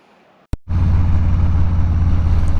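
A 2020 Harley Davidson Fat Boy motorcycle starts with a sharp click and then settles into a loud, close, deep lumpy idle that thumps steadily to the end.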